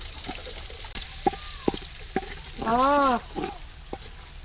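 Onions frying in a pan for village-style chicken biryani sizzle steadily as a utensil knocks and scrapes through them. One short, wavering tonal squeal rises over the frying partway through.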